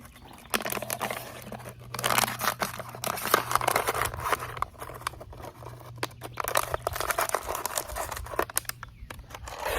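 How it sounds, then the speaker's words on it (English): Close cutting and crunching on an item being made into a fish trap outdoors: irregular snips, crinkles and tearing textures come in uneven bursts over a low steady hum, with faint background noise and no talking. "I'm going to take it and cut it"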